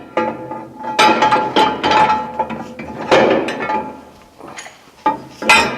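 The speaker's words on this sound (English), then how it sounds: "Reinstall the shoe into the restraint." A PowerHold shoe is slid back into its restraint, giving a run of close metallic clunks, scrapes and clinks in uneven bursts with brief lulls between them.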